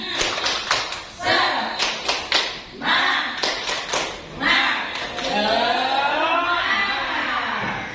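A room of schoolchildren performs the rhythmic tepuk semangat clapping game at an elementary school orientation, with clusters of patterned claps alternating with voices chanting together.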